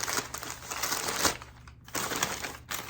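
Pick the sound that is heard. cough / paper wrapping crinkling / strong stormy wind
paper wrapping crinkling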